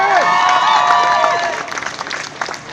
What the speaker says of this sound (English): this extension of solidarity deserves a damn big round of applause